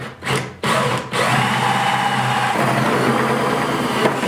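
A power drill with a 3.5 inch hole saw bit revs briefly, then grinds steadily and loudly through a 5-gallon bucket, close by.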